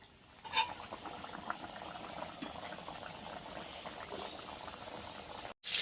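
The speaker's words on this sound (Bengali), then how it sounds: "হচ্ছে তেল আমার গরম হয়ে গেছে, এবার দিয়ে দেবো লুচি।" Luchi, a puffed Bengali fried bread, bubbles and crackles in hot oil with a soft steady fizz, faint and close, with one brief louder splash near the start and a cut near the end.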